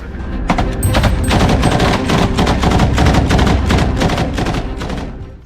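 Rapid bursts of small-arms gunfire crackle in dense, loud volleys from combat in a building-clearing assault, shots overlapping continuously with no speech.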